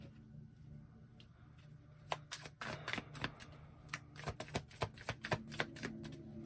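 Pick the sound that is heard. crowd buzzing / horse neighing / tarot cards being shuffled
tarot cards being shuffled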